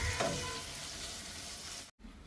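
Tender brinjal pieces frying in oil, a loud, dense, crackling sizzle close up that runs steadily and then cuts off briefly near the end.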